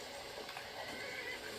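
A horse in the Skyrim video game gives a faint whinny over a continuous hiss of game ambience, heard without any voices.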